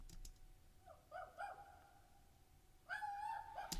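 A human voice, pitch-shifted upward to imitate a little dog, gives a few short yips and whines, then a longer, louder bark-like cry near the end, with quiet gaps in between.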